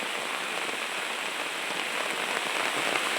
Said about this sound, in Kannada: ಅಷ್ಟು ಜೋರು ಮಳೆ ಬರ್ತಾ ಇದೆ.